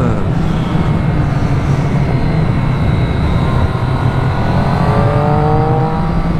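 Triumph Street Triple R motorcycle engine pulling steadily under acceleration, a loud continuous drone with rising harmonics and wind rush throughout, heard close up while riding.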